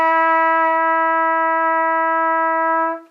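A single sustained saxophone note, steady and full, held for about three seconds before cutting off cleanly.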